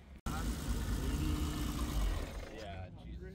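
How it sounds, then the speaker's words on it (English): A BMW E30 325iX Touring engine at a vintage car meet rises in a sustained rev, then falls away toward idle, loud and close throughout. "I tried to rev to 7 and it fell."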